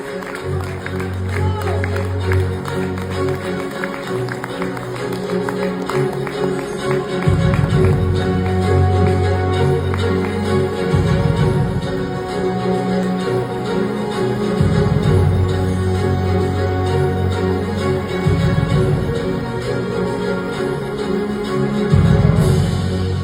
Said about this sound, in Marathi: जोरदार टाळ्या महेश सरांसाठी.